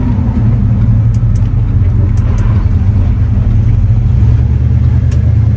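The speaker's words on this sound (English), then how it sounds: "So let's have a ride to my favourite bit of road, just see what it's like on there" A 1974 Cadillac Superior Hearse cruising along a back road, its engine a steady, loud low rumble with constant road and wind noise and no talk.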